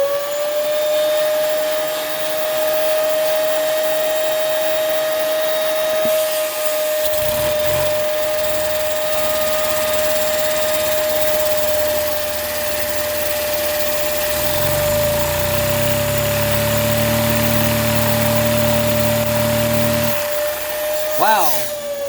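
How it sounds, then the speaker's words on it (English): A vacuum cleaner whines loudly and continuously as it spins a Lego engine, a steady high-pitched drone with a faint whirring underneath that rises in speed partway through, with no talking heard. "I'm using a vacuum cleaner to spin Legos."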